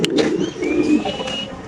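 A pigeon at a market stall coos softly up close in low, throaty murmurs, with a thin faint whistle and light background bustle.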